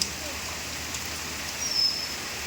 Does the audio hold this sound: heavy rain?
yes